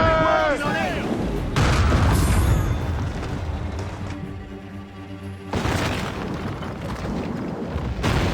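Ship cannons firing in a naval fight in Assassin's Creed Rogue, heavy booming blasts in a few bursts separated by quieter stretches of sea and wind, with crew voices shouting orders.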